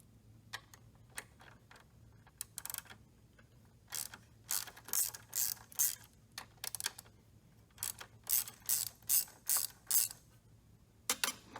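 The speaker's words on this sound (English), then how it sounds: "Now you're going to use a 7/16 ratchet to remove the traverse stop switch." A 7/16 ratchet turning bolts out of a chair lift's traverse stop switch, heard as bursts of close, crisp clicking strokes in uneven runs separated by short pauses, with no talk.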